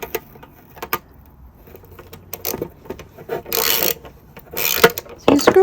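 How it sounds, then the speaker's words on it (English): A hanger being screwed into the underside of a 10mm tile foam core backing board by hand gives close, intermittent scraping, creaking turns and small rubbing knocks, with a few louder rustling bursts. "I'm holding that and I'm screwing underneath."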